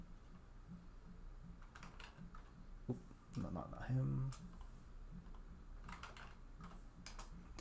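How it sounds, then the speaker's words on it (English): Computer keyboard keys and mouse clicks during a Warhammer 3 game, light scattered clicking under a brief spoken remark. "you can still hear my keyboard and my middle mouse, it seems, but the left and right click"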